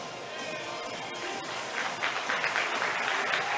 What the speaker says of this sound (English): Mosley gets a good hand from the crowd as she heads toward the bench